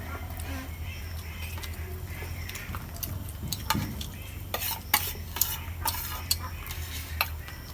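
Noodles being stirred and fried in a pan outdoors at a home in the rain, with scraping and clinking of a utensil against the pot over a steady low background hiss, and sharper taps later on.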